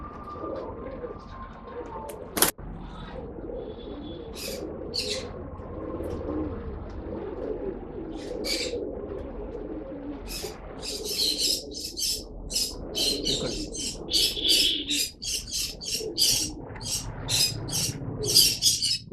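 Pigeons at a pet shop in Bangalore cooing softly in the background while people talk, with sharp chirps and flutters growing busier toward the end and a single loud knock early on.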